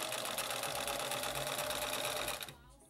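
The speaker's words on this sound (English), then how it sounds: "just sew it all up" A sewing machine stitches fabric for suits, a fast even mechanical whir with a rapid needle rhythm, close and steady before stopping abruptly near the end.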